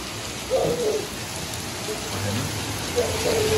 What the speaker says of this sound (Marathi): मुसळधार पाऊस आणि चालूच आहे दुपारपासून